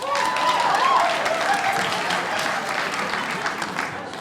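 A comedy club audience claps in a dense, steady burst of applause that stays loud and slowly tapers.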